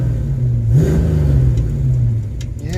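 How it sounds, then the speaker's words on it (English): A parked Ford idles with a low, rough engine rumble and a rattle from the transmission or clutch, briefly rising with a short rev before settling back, close and fairly loud with no voices. "something in the transmission of the clutch is rattling."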